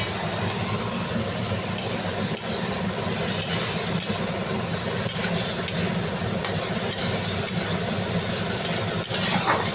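Potatoes frying with spices in a pan over raised heat for a cabbage and mung dal dish, a steady low sizzle with occasional light scrapes and taps from stirring throughout.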